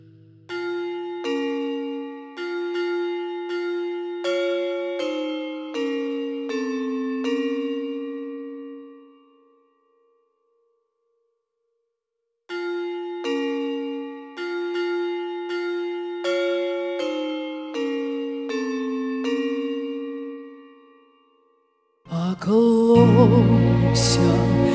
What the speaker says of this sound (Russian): бьет колокол над нами поминальный